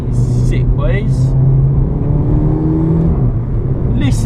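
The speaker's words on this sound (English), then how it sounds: "You ain't getting DSG farts like that stock, no way." A VW Polo GTI with a DSG gearbox and resonator exhaust drones steadily from inside the cabin, the rumble swelling slightly as someone talks over it in short bursts.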